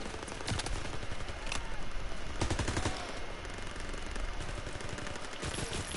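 Rapid gunfire in a World War II video game, bursts of loud cracks and machine-gun volleys repeating in clusters over a dense, noisy battle background.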